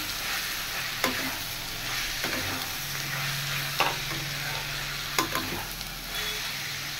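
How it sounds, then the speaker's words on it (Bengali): Small cut pieces of mutton fat fry in a pan with a continuous hiss, broken by a few sharp utensil knocks and scrapes as they are stirred. "এবার আমি দিয়ে দেব চর্বিগুলো, এগুলো আমি ছোট ছোট করে কেটে রেখেছি। এবার এটা একটু ভাজবো"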